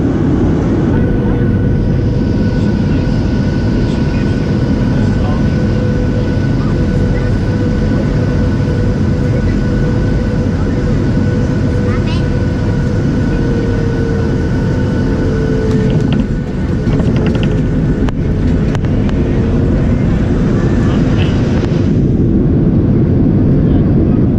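Steady loud broadband drone of an airliner cabin in flight, a continuous low roar with a faint whining tone running throughout, and brief murmured voices in the background.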